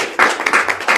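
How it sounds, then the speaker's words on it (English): An audience at a training event breaks into applause in a brief burst of several bright, overlapping claps. "And so would you bring Vaughn up to the big round of applause?"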